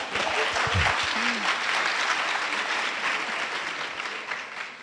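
Sustained audience applause in a courtroom during a law night event, a dense steady clatter of many hands filling the room for about five seconds without pause.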